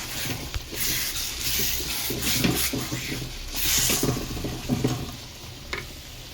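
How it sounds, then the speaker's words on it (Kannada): Curd curry being stirred in a pan after water and salt are added, with repeated scraping and sizzling strokes at close range, a continuous textured wet stirring throughout. "ಸೊ ಈಗ ಎಲ್ಲ ನೀಟಾಗಿ ಬೆರೆಸ್ಕೊಳ್ಳೋಣ."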